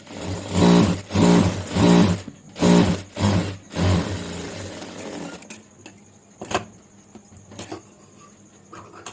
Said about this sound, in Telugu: కుట్టు వేసుకోండి.